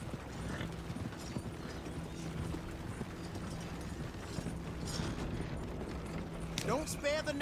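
Horse hooves clip-clop steadily alongside a creaking, rattling wagon in the video game Red Dead Redemption 2, a soft, continuous rolling sound with a brief voice near the end.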